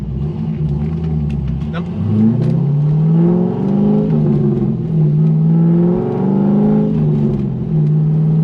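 A Chevrolet C5 Corvette V8 revs up and settles repeatedly, a loud, close, deep rumbling engine note rising and falling in pitch, with someone talking over parts of it.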